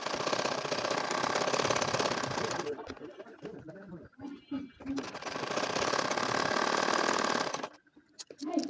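An ordinary sewing machine stitching a baby nakshi kantha runs in two long, steady, buzzing passes. The whirring is close and loud, and a voice speaks in the gap between the passes.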